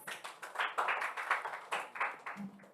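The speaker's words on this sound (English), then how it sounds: "Clap for yourselves." Students at a digital design and creative coding activity day clap for themselves in a quiet room. There are distinct, separate hand claps in an uneven, fairly quick rhythm rather than a dense roar.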